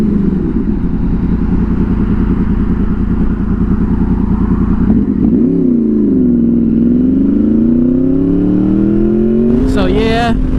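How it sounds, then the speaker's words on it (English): A Honda VFR800 motorcycle accelerates hard after a U-turn, a loud steady engine drone that rises and falls in pitch through the revs, climbing sharply near the end, with wind rush throughout. "Does VTEC ever get old?"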